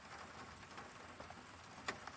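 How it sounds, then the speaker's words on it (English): Steady rain falls through a thunderstorm in Sioux Falls, South Dakota, a dense, even hiss of drops with a few sharper taps and one brief louder splash near the end. "And it still is raining"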